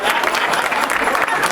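Thick, continuous audience applause at a carnival society event in Spaubeek, loud and sustained with a full crowd wash of clapping.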